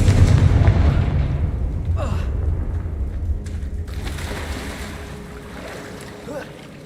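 A Confringo spell explosion in Hogwarts Legacy sets off a loud, boomy rumble that slowly fades, with a few sharper whooshing hits layered on top and a low roar continuing underneath.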